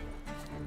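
Horse hooves clip-clop in The Witcher 3 video game, a faint, steady stream of game sound under a dense hum, with no talking.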